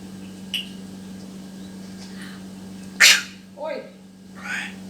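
A person sneezes indoors: one sharp, loud sneeze burst stands out over a steady electrical hum, followed by softer vocal sounds.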